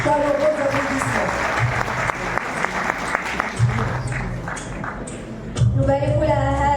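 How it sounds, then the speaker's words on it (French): Audience applause at an African innovation award ceremony, a steady wash of clapping that persists throughout, with a presenter speaking and music-like tones surfacing over it toward the end. "Sous vos applaudissements, s'il vous plaît. Chaleureux applaudissements."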